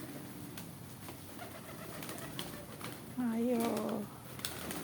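Pigeons feeding give soft, low coos, with a brief louder cooing burst toward the end, over a busy background of scattered clicks and faint rustling, while someone speaks a short word.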